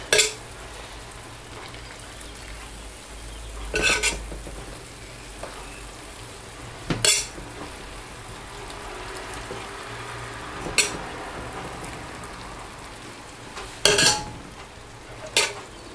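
Fish frying in a pan for an Iraqi-style fish dish makes a continuous low sizzle, broken every few seconds by sharp clatters and scrapes of a utensil against the pan, with no talking.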